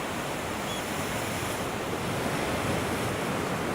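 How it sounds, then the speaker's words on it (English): Ocean waves pounding during a late autumn storm, a dense, continuous roar of surf mixed with gusting wind buffeting the microphone, loud and steady throughout with no voices. "Oh, look at those waves!"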